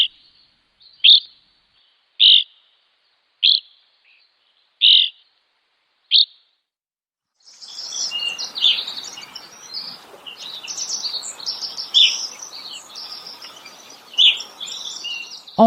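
Evening grosbeak calling: five short, clear high chirps spaced about a second apart, then a busier stretch of overlapping chirps and twitters over a soft outdoor hiss, moderately near.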